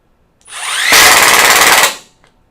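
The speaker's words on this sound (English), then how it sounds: "I have 4 screws here that I'm actually going to drive" A power drill drives a screw in one loud burst, the motor whining up and then grinding steadily for about a second before stopping, with no voices.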